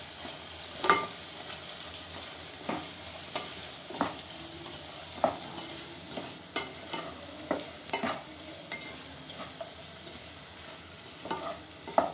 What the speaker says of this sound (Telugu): ఇది మధ్యలో కలుపుకోవాలండి లేకపోతే కింద అడుగుంటుంది